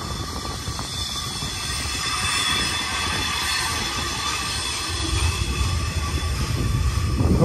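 An iron ore freight train rolls past in a steady, continuous rumble of wheels and cars. It stays close and grows slightly louder toward the end, with no voices.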